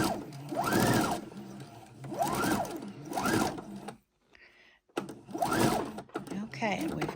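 A sewing machine stitches an apron seam in loud, fast whirring bursts, pausing briefly once before starting up again, with a person talking over it.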